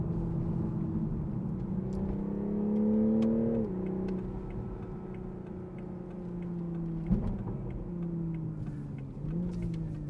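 Engine drone from a 2021 Toyota Supra GR 3.0 Premium rises in pitch as the exhaust revs, then drops sharply at a shift, settling into steady cruising with another quick blip, heard from inside over road noise.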